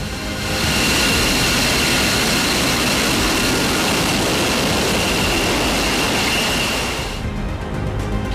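A powerful F-22 fighter jet engine roars loud and continuous for several seconds, a harsh broadband blast with a whining tone, then cuts off abruptly.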